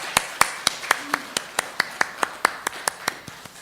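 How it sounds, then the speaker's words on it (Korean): A congregation in a church claps in unison, about fifteen sharp even claps at a brisk steady beat, close and clear, with faint murmuring beneath. "감사의 박수 올리겠습니다"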